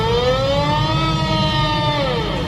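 Botswana's emergency alert alarm: a loud, continuous electronic siren tone that rises slightly, holds steady, then falls, rich in harmonics and sounding alone with no talk.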